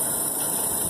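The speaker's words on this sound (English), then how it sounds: "You can see the motor is rotating at a high speed." Small electric motor spinning fast on a 14-volt supply, giving a steady, even whine and hum that holds level through the whole short stretch, close and fairly loud.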